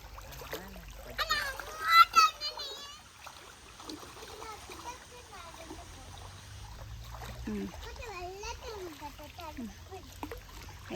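A child swims in a stream, with watery splashes and sloshing up close that are loudest early on, under an adult's voice calling out and a voice.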